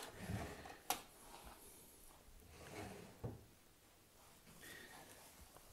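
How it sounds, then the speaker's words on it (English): Wax-finished drawers of an Edwardian pine dressing chest slide open and shut. There are soft rubbing glides and two faint wooden knocks in a quiet room. "Drawers are sliding nice and smoothly."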